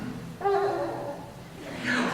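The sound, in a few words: trombone imitating a lamb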